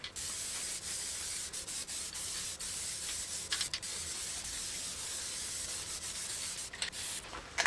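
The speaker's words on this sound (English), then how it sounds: "that may have looked like I was spraying an awful lot of adhesive on there" Spray adhesive is applied to a board for mounting a diamond-painting canvas: a steady, close hissing spray runs almost without break for several seconds, with a few short pauses and bursts near the end.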